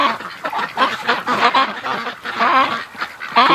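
Close, loud Muscovy ducks calling repeatedly, raspy honking and quacking voices overlapping in a busy, continuous chorus.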